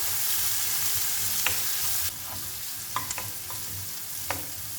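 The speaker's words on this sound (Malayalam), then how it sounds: "നമുക്ക് 2 സവാള ചോപ്പ് ചെയ്തത് ഇട്ട് കൊടുക്കാം. ചെറുതായിട്ടൊന്ന് വഴറ്റിയെടുക്കാം." Chopped onions, added after green chillies, sauté and sizzle in a pan on the stove. Steady frying hiss runs throughout, dropping slightly partway, with a few sharp clicks of stirring against the pan and no talking.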